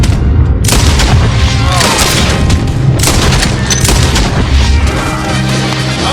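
Gunfire erupts in Red Dead Redemption during a ranch shootout against Laramie gang members, with dense, overlapping shots and booming reports in a constant loud barrage and scattered voices beneath.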